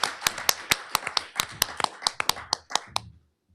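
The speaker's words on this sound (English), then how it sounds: "Anna, big round of applause for her," Applause at a talk on spirituality in serious illness: a modest group clapping in quick, distinct, irregular slaps that thin out and stop, followed by silence.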